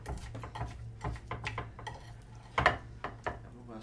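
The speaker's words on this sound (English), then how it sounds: "I'm going to spoon some out" Spoon scraping and scooping baked creamed corn with a cracker crumb topping from a baking dish, a run of soft clinks and scrapes with one sharper knock near the end, close up and alone.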